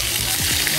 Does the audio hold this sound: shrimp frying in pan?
yes